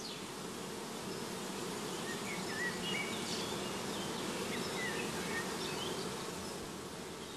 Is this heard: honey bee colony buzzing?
yes